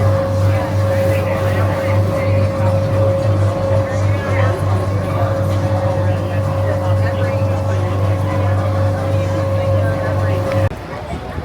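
A water taxi boat motor drones steadily with a strong low hum and a high steady whine, voices murmuring underneath, on the way to Universal's City Walk, until the engine noise suddenly drops near the end.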